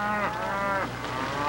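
Cattle moo in long, drawn-out calls on a cattle drive near John Day, Oregon, two or three lowing voices overlapping at close range with steady background noise and no talk.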